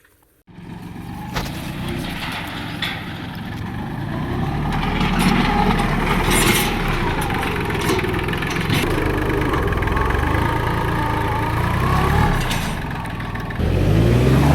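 A diesel tractor pulling away on a farm trip, its engine rumbling loudly and steadily with a gentle rise in revs and some clattering, holding close throughout.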